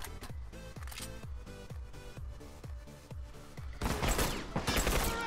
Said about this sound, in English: Nice headshots by Morley again with that burst rifle